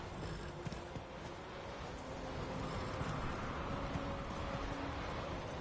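A horse gallops in The Witcher 3, its hooves clip-clopping in a fast, steady rhythm over a continuous bed of game ambience, with no voices.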